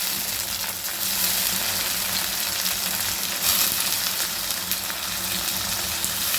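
Cut bitter gourd fries with browned onions in oil in a pan, giving a dense, continuous sizzle with a low bubbling undertone, steady and close.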